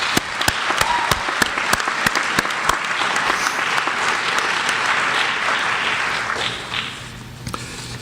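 Audience applause at a college student-athlete awards ceremony, dense clapping with sharp individual claps up front, sustained for several seconds before thinning out and fading near the end.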